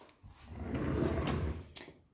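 A kitchen drawer slides open with a muffled wooden rumble lasting about a second, followed by a couple of sharp clicks and knocks, close by in a quiet room.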